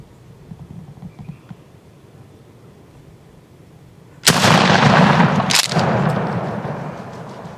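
A single loud shotgun blast goes off at a turkey during a spring hunt, a sudden close boom that rolls out into a long fading echo after a quiet stretch of outdoor ambience.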